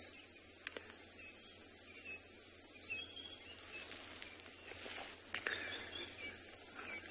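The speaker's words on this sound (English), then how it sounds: "Just allow you to listen a moment for a few of the birds" Birds call faintly at sunset on a safari after rain, scattered brief chirps and whistles over a steady hiss of wild ambience, with a couple of sharp nearby clicks.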